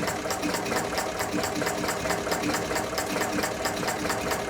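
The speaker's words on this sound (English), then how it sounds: "And the governor struggles to control the injection pump. But it's running." A Chinese mini diesel engine runs with its governor struggling to control the injection pump, making a rapid, steady mechanical clatter of fast repeating knocks, loud and close.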